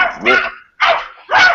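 A dog barks at a home birthday gathering: three loud, close bursts of barking separated by short pauses.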